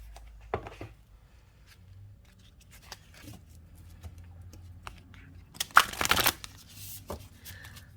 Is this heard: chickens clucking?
no